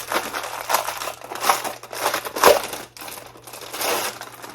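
Plastic packaging around a corresponding journal crinkles and crushes as it is opened, a close, steady run of crackling bursts with a sharper crunch midway and no talking.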